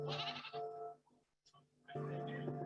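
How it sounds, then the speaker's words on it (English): A goat bleats close by, two long wavering calls separated by a brief quiet gap. "he's just a goat"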